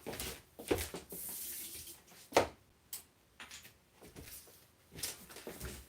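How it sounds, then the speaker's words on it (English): A rubber stamp rinsed under a tap at a craft-room sink: quiet running water with splashing bursts and a few clicks and knocks, nearby and fairly faint, with no talk. "Let me rinse this off quick."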